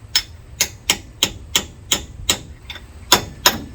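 A hammer strikes metal repeatedly during installation work on a 1953 Chevy, about nine sharp, close, evenly spaced blows with brief ringing, with no talk.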